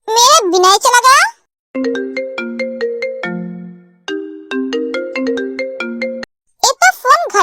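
A mobile phone left at home plays a melodic ringtone of bright repeated electronic notes, loud and close, with someone talking excitedly just before and after it.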